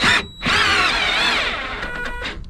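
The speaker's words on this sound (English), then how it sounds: "let's try changing the setting of the drill" A cordless drill driving a scissor jack gives a brief, loud, whirring whine that starts and stops, then runs for a couple of seconds while its pitch wavers under load.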